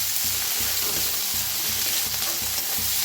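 Onion and tomato fry in a pan with coriander, giving a loud, steady close-up sizzle with faint stirring scrapes underneath and no talking.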